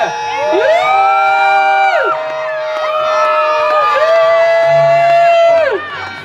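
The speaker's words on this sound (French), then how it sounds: "Applaudissez le couple!" A crowd at a church wedding-style celebration cheers and whoops loudly for a couple, with many high sustained shouting voices overlapping continuously, close and energetic before easing at the end.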